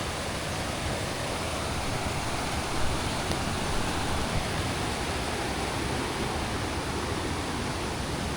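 Kolapathana waterfall at Mandaram Nuwara pours in a steady, dense broadband roar, close and constant throughout with no voices over it.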